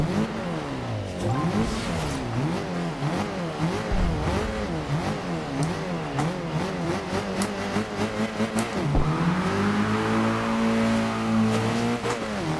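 Revving car engine echoing inside a tunnel in Forza Horizon 2, a stock car of about 215 horsepower, with rising and falling revs through quick gear changes, loud and continuous with no talking.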